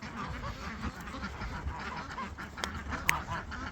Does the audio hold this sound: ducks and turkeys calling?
yes